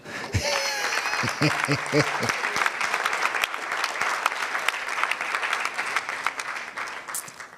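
Audience applause at the NSMQ 2025 launch event in Ghana, a steady crowd clapping that carries on for several seconds, with a brief voice at the very start.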